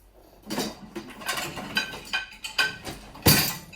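Pots, pans and a lid clinking and clattering as they are loaded into a vintage 1977 Hobart KitchenAid Superba portable dishwasher, a series of close, irregular metallic knocks ending in one sharper, louder clang.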